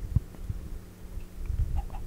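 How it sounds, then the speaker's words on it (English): A few soft Minecraft chicken clucks sound faintly at intervals against a quiet background, with no talking. "There's a chicken."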